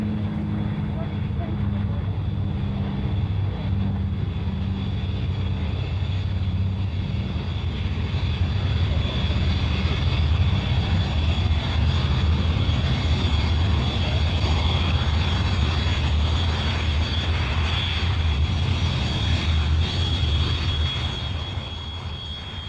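North American B-25 Mitchell bomber flying over Australia, its engines giving a steady, loud droning roar that persists throughout, with a narrator speaking over it.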